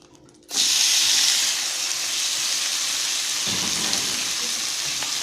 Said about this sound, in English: I'm going to add my bacon to crisp up